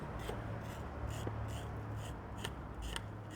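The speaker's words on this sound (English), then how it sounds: "So we'll just give these cobs a quick scrape." Grilled corn cobs scraped with a blade to pull off starchy pulp, giving a quiet, close series of rhythmic rasping strokes about every half second.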